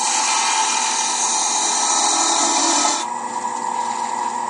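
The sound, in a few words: narrow parting tool cutting mahogany box on a lathe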